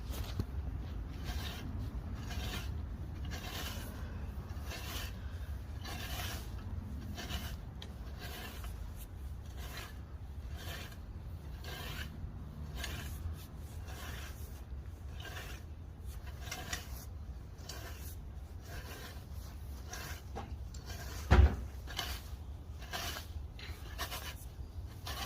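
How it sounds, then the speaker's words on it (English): Steady, fairly quiet rhythmic scraping of a rake dragging leaves and moss across a lawn, repeated strokes continuing throughout with one brief sharp knock near the end; no talking. "I'm going to rake it all into a pile into the middle"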